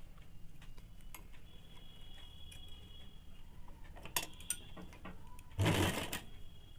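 A sewing machine stitches a zipper onto ladies' pants, quiet ticking needle strokes and clicks up close, ending in a short burst of faster whirring.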